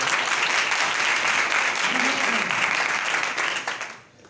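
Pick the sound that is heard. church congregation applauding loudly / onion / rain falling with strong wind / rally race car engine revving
church congregation applauding loudly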